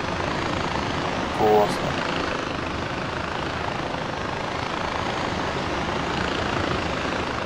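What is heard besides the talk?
helicopter in the video game Far Cry 4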